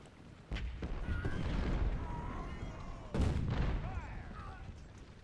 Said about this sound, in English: The artillery that you hear is actually my artillery hitting his guy hitting